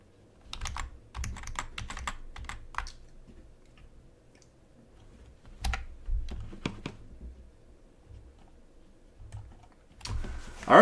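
A computer keyboard is slammed and hammered in loud, ragged bursts of clattering keystrokes, with pauses between flurries and a final hard bang, close and alone.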